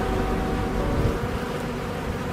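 Bees buzz at a beehive entrance in a dense, continuous hum that stays close and steady throughout, with no voices.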